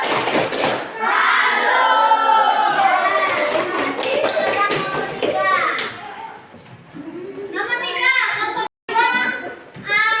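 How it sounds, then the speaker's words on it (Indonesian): A class of secondary-school students chants the tepuk salut clapping routine. Children's voices chant over rhythmic group claps, close by and lively, with a short pause before the chant resumes. "Ayo, tepuk salut."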